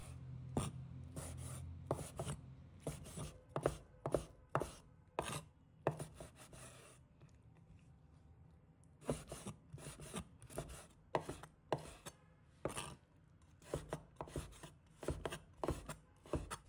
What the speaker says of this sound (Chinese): 再把它切成小块。